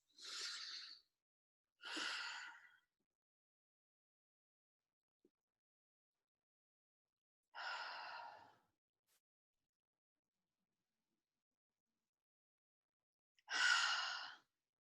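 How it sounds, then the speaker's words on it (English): Four deep breaths during a guided meditation: slow airy inhales and exhales spaced several seconds apart with silence between them, close and clear, with no talking. "Take in 3 deep breaths with me."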